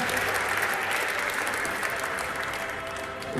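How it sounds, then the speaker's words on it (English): An audience on stage at a European Handball Championship draw event applauds loudly, a dense continuous wash of clapping heard alone. "Big applause."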